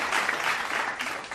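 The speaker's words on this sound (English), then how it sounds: "Let's give her a round of applause." A studio audience on a talk show claps in a brief, dense round of applause, steady and fairly close throughout.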